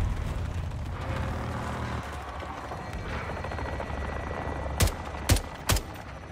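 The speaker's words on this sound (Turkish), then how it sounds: "Oğlum bizim helikopter biçiyor adamları!" A military helicopter in Call of Duty Modern Warfare II keeps up a steady loud rotor roar, and three sharp bursts of gunfire break in near the end.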